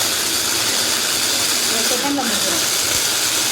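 Tomatoes being ground in a mixer grinder, a loud, steady whirring roar that holds constant throughout, close by and dominating everything.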